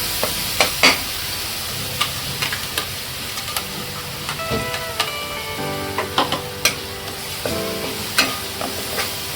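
Green ground masala paste sizzling in oil for an eel fish curry, a soft continuous fry broken by irregular sharp clicks and scrapes of stirring, close and moderately quiet.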